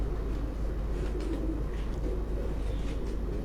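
Close by, a pigeon gives low, soft cooing over a steady rumbling background hum, a continuous murmur through the short stretch with no speech.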